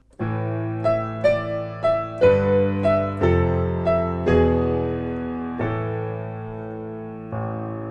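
Piano chords from the ending of a song ring out in a slowing sequence of struck notes, each left to sustain and decay, ending on a long held chord.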